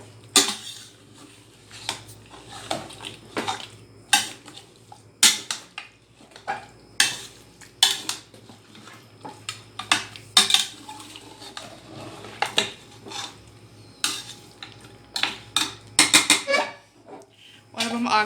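Spices and paste being mixed into an aloo gosht (potato and mutton) curry base, heard as a run of close, irregular scrapes and clinks of a spoon against a pot, with a low steady hum underneath.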